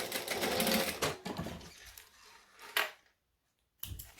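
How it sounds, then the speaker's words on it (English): A sewing machine runs in short bursts, top stitching an eighth of an inch from the edge of fabric, with quiet pauses between the runs and a near, moderately loud whir. "So I just want to top stitch 1/8 of an inch along here."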